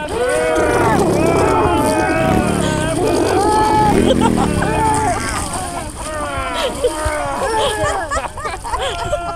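A person imitates a jet ski engine with the voice, producing loud, revving, rising and falling buzzy tones close to the microphone, while others chatter and laugh around them.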